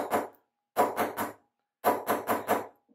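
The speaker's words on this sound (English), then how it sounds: "I'm going to take a bench block and a nylon headed hammer." A nylon-headed hammer strikes wire laid on a steel bench block: three bursts of rapid, dull clacking blows, first a single hit, then a trio, then four in quick succession, close and fairly loud with silent gaps between.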